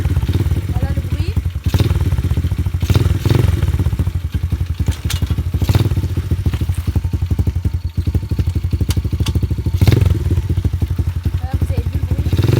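A 110cc semi-automatic dirt bike engine idles close by, a loud, steady, rough putter with a rapid pulsing rhythm and occasional small surges throughout.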